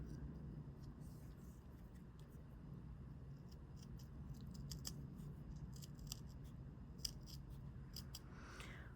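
Close, crisp snips of scissors cutting through beadwork backing material, a series of irregular cuts over a low steady background rumble.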